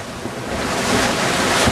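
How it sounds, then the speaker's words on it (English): A gaff-rigged sailboat plows through autumn seas as waves crash and rush against the hull, a loud continuous wash of surf mixed with heavy wind buffeting the microphone. "We're bashing the waves here."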